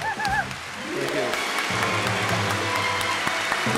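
A studio audience claps and applauds at a science talk show, a steady wash of close clapping that runs the whole time, with a voice and some music underneath.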